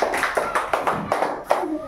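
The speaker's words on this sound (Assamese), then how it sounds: "সকলোৱে এটা হাত চাপৰি দিয়ে" Children in a primary school classroom clapping together, a few quick rhythmic claps close by, with faint voices in the room.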